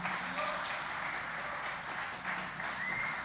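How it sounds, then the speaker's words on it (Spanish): Church congregation applauding, a continuous soft wash of many hands clapping at a distance, faint and even, dipping briefly before swelling again. "Denle un fuerte aplauso al Dios Todopoderoso"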